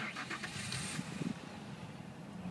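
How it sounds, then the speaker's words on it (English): A V8 car engine cranks with a rapid whirring starter after a push-button start, then catches and settles into a low, steady idle rumble close by. "So there she goes, she's cranking over now."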